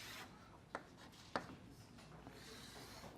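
A pen or marker draws a diagram on a board, giving a few short scratchy strokes, two of them sharper and louder, over a quiet room with no talking.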